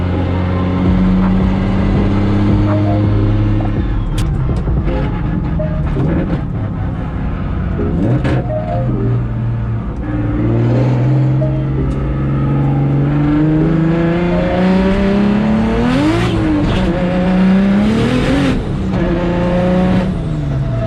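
A 750hp BMW 135i drives with its loud, distinctive exhaust, heard from inside the cabin: a continuous engine drone that rises and falls as revs climb and shift, with no talk.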